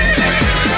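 A horse neighs within a Silesian-style Polish pop song, a loud whinny mixed into the full, dense music track.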